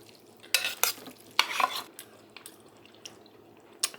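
A spoon stirs beef noodles with caramelized onions in a pan: several short scraping, clattering strokes with gaps between them over a quiet low hiss, and no voices.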